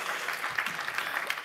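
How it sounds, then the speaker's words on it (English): Brief applause from a conference audience thanking panelists at a diplomatic forum in Bucharest, steady clapping of moderate loudness for about a second and a half with no voices. "In a big round of applause, I would like to thank all of our panelists for that."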